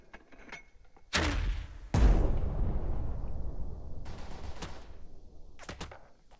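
Mortar fire in the video game Burden of Command: two loud, heavy blasts land close together and roll into a long rumbling tail, followed later by a few sharper, thinner shots.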